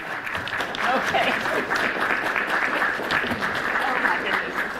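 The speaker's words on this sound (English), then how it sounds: "Can we give a standing round of applause to receive our 10th president?" A standing round of applause greets a university's tenth president at a nursing building event, a steady wash of clapping from a room full of people sustained for several seconds.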